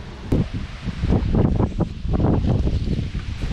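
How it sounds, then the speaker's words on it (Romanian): Gusty wind buffets the microphone in uneven bursts, a rough low roar rising and falling with no voices. "Încă și vântul bate aici."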